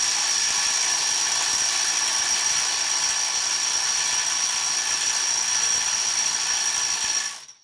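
A Makita 18V impact wrench in a comparison test works loose a stubborn nut with a continuous, loud, close hammering whir and a high whine, running steadily for about seven seconds before cutting off.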